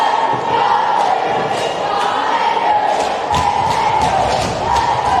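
Crowd at a high school girls' basketball game, a loud packed gym roar of cheering and yelling that holds steady throughout, with occasional thuds and surges.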